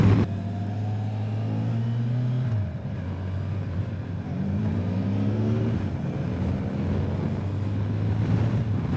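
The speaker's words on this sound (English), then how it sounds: "So that acceleration is what it feels like in sport mode." A 2022 Kawasaki Versys 1000 SE LT+ motorcycle accelerates in sport mode, its engine note climbing through the gears with brief dips at each shift, heard from the rider's position under steady wind rush.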